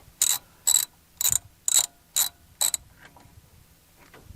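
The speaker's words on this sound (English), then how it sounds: "It's tight enough that I have to take the bolt out completely using the socket." A socket wrench ratchets out a bolt from a muddy liftgate power unit, six crisp, evenly spaced clicking bursts up close, then faint scattered clicks as it slows.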